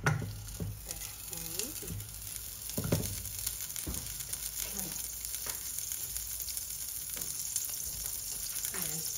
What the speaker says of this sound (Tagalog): Maggigisa na tayo. Butter ang ilalagay ko.